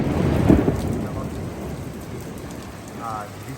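Rain falls steadily on a Dhaka rooftop, and a loud, low roll of thunder rumbles early before fading under the continuous patter.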